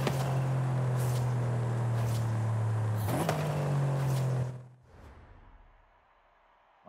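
A car engine in Forza Horizon 5 holds a loud, steady drone with a brief pitch shift midway, then cuts out abruptly, leaving near silence.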